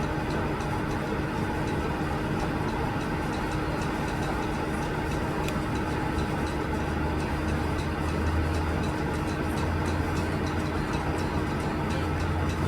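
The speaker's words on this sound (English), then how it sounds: "So it's blowing the air in there and burning the pellets down. See, here it goes. So it's rotating." A wood pellet stove blowing air as it burns pellets and rotates, giving a steady loud low mechanical hum and whir that runs unbroken throughout.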